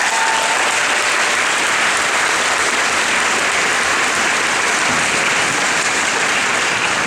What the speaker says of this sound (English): let's give our parents a big round of applause for all they've done.